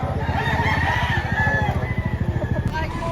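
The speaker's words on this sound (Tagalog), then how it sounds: "Daming manok pa na." Chickens and roosters at a market, a rapid regular run of clucking pulses close by, loud and steady throughout, with voices talking faintly in the background.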